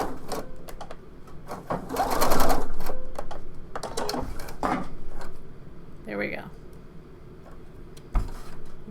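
A sewing machine runs a brief back stitch on a blouse at the shoulder seam, short bursts of close mechanical whirring broken by clicks and handling noises, with someone speaking between them.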